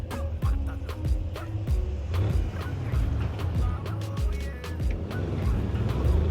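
A luxury SUV in Cyberpunk 2077 drives along city streets, its engine a steady low hum with road rumble and repeated sharp clicks and knocks, loud and close throughout.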